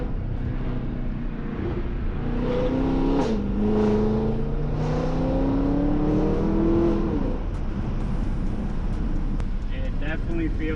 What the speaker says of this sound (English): The shifts sound a little more aggressive, the upshifts, which I like, and no burbles